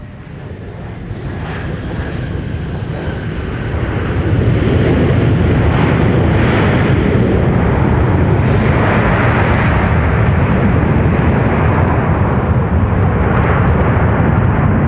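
A Delta jet lands on runway 12 right at Minneapolis airport, a heavy low engine roar building over several seconds into a loud, sustained rumble with reverse-thrust noise.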